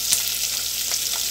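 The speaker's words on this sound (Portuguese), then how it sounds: "eu tô aqui fritando carne de jabá" Dried salted beef (carne de jabá) sizzles steadily in a hot frying pan, a continuous close hiss with a few brief spits and pops, and no voices.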